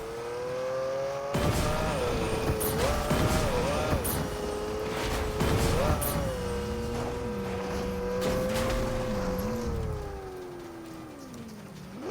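A Lamborghini engine in the video game Fortnite drones steadily, its pitch rising and dipping as it revs, with a second lower engine tone joining partway through.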